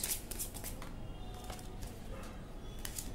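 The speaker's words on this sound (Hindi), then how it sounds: "एक और शफल गाइज, ठीक है" Tarot cards are shuffled close up in quick riffling bursts, several crisp flutters at the start and a few more scattered through the rest, with no talking.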